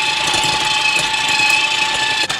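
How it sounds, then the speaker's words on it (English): An electric hand mixer creams softened butter for a loaf cake batter, a steady close whirring buzz with a high motor whine running throughout, briefly dipping near the end. "Then you're going to take your mixer and you're just going to cream this up for a little bit."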